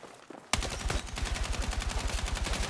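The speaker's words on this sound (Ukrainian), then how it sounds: "Він, він по мені стріляє." Automatic gunfire in the video game Battlefield 6 bursts in suddenly and keeps going as a loud, rapid, steady string of shots, close and continuous, with no talk over it.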